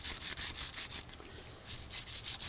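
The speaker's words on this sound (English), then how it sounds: "before I put the new clips on, I like to brush this surface or make sure that that's fully clean," A brush scrubs the surface of a front brake caliper bracket on a 2011 Honda Pilot in rapid back-and-forth strokes, two bursts of close, hissy scraping separated by a brief pause.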